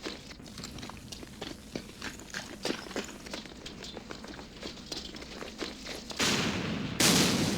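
Tank gunfire in the wargame Campaign Series Middle East, set in the Second Arab-Israeli War: a long run of sharp, crackling reports at moderate level, ending in a louder burst of broadband noise, with no talk.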